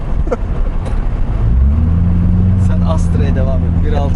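A Corvette C6 Grand Sport's engine rises into a deep, sustained rev with a throaty exhaust drone that holds steady near the microphone, while people talk over it.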